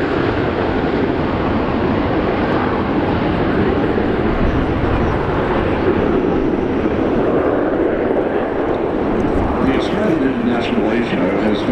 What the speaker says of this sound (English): the FA-18s lining up ready for their departure to join the battle space display